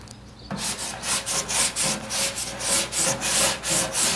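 A medium grit sanding block is rubbed back and forth by hand over painted wood in steady, rhythmic strokes, about a dozen close raspy passes following a brief quiet start.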